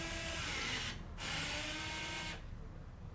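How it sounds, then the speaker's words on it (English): Porsche electric parking brake actuating during an air gap check, a faint whirring motor that runs, pauses briefly, runs again, then stops. "it's going to go ahead and it's going to actuate the parking brake, and it's going to measure the air gap"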